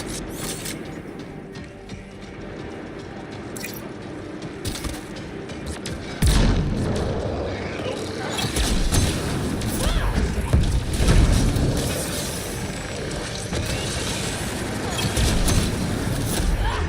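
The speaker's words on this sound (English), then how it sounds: "Explosion!" A video game explosion erupts as a sudden loud burst partway through, giving way to sustained rumbling, crackling noise that stays dense to the end over steady game background sound.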